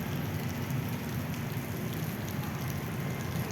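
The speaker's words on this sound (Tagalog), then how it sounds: "Kaya lang bigla lang bumuhos yung ulan" Steady rain hisses and patters continuously at moderate distance, a dense even wash of drops with no voices.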